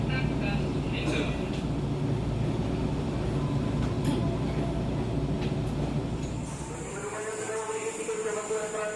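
A commuter train rumbles steadily at Rangkasbitung station on Java, Indonesia, with low mechanical drone and brief high squeals, then a softer hum and a tonal whine settle in near the end.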